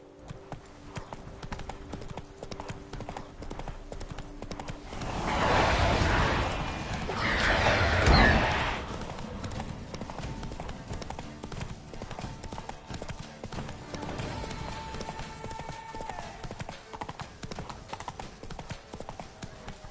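Roach, the horse in The Witcher 3, gallops with a heavy, rhythmic thud of hooves that swells to a loud, close burst for a few seconds before settling back under steady game ambience.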